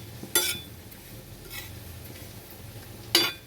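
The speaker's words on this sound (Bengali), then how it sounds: "আমি কিন্তু একটু ভেজে নিচ্ছি, শুকনো চাটুতে ভেজে নিচ্ছি আমি" Cumin seeds dry-roasting on a dry tawa, heard as three brief scraping stirs of the spatula against the pan, close and crisp, with quiet stretches and a low background hum between them.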